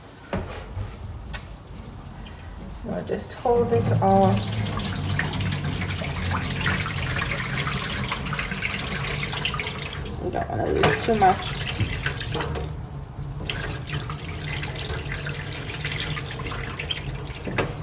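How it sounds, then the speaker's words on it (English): Water pours from a cooking pot of ugali during cooking, a steady splashing gush running for most of the stretch, close by, with a brief voice speaking near the start. "now we're going to pour the water out."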